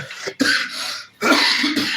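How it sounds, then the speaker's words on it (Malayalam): A person coughs twice in quick succession, close and loud, with a short pause between the harsh bursts. "ചുമ വന്നു കേട്ടോ"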